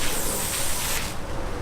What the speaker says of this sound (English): Now I can spray in a downward direction.